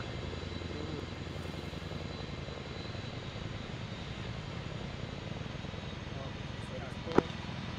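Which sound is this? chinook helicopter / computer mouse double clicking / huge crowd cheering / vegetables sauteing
chinook helicopter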